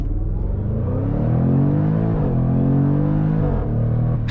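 A Jaguar F-Pace SVR's supercharged V8 accelerating hard, its loud, steady rising rumble heard from inside the cabin, pitch climbing and dipping briefly at a gear change before pulling on again.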